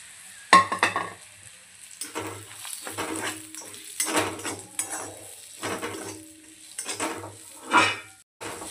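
Crushed peanut powder being stirred and roasted in a pan for a bhagar (barnyard millet) upma, with repeated scraping strokes of a spoon against the pan over a soft sizzle, steady and close with no talking.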